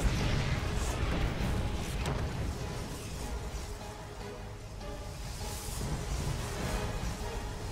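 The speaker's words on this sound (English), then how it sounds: "now his SCVs are getting hit by cannons on the back" Photon cannons fire in rapid succession at SCVs during a StarCraft 2 cannon rush, a dense, continuous barrage of booming, crackling impacts with steady loudness throughout and no talk.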